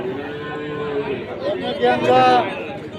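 A single cow lows briefly near the end amid a busy outdoor crowd at a cattle market for Qurbani, with voices talking throughout.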